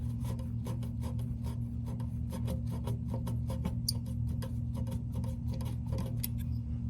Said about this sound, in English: got the 10mm bolt out.